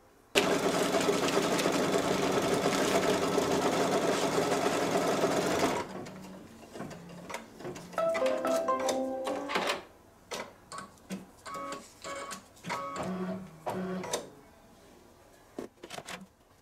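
Kimberbell embroidery sewing machine stitching steadily and loudly for about six seconds, then stopping, followed by scattered clicks, taps and brief handling noises.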